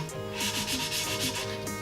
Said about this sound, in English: you can pretty much hear it changing pitches when the compound is not so gritty on the two surfaces